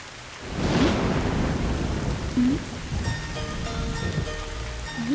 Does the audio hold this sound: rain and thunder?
yes